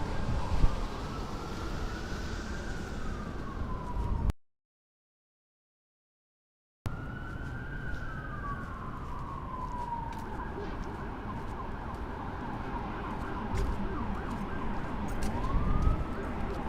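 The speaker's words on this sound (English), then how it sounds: "we do have some sirens, of course" Emergency vehicle siren wailing through New York City from a rooftop park on Pier 57 by the Hudson River, a rising and falling tone at moderate distance over city hum and wind, briefly cut out midway.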